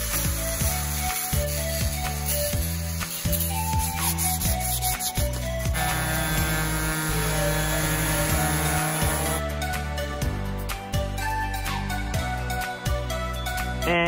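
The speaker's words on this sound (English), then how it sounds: "you can use this device to sand it down as well" Harsh abrasive rubbing on a rusty metal fence with a power sander, continuous and loud, shifting in pitch and intensity as the tool presses and moves.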